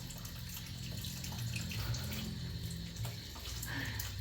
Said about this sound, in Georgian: მოდი ახლა ჩამოდი და მე გავაგრძელებ გარეცხვას